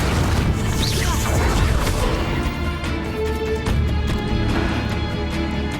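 Confringo and Bombarda spell blasts in Hogwarts Legacy, loud crashing booms and whooshes layered over busy game sound, with a voice speaking between the impacts.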